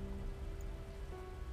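Steady rain patters in the underwater-themed video game Under The Ocean, a soft, even hiss of drops on surfaces that continues unbroken and quietly, with no talking.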